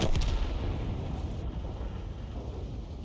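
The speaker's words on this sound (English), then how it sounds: "So we can help him here by putting a round in the IS-7's rear as he retreats." A heavy tank cannon fires in a World of Tanks-style battle, an Object 261 artillery piece launching a round with a sharp booming blast at the start that rolls off into a long, low rumbling decay.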